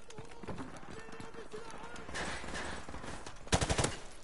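Gunfire in Call of Duty Modern Warfare Remastered crackles in quick bursts under steady game noise, rising to a louder, rapid volley near the end.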